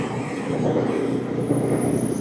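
An electric train rolls past nearby, a steady rumbling whoosh of wheels on rails with a faint high whine.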